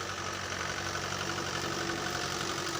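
A diesel tractor engine idles steadily close by, a constant rumbling drone with no speech.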